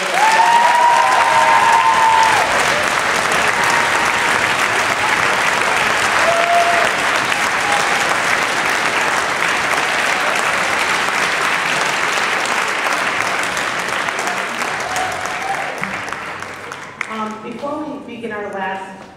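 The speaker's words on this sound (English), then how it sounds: "If you would give them a wonderful round of applause." An audience at a school spring concert gives sustained, dense applause that holds steady for roughly sixteen seconds before tapering off, followed by a voice beginning to talk as the clapping fades.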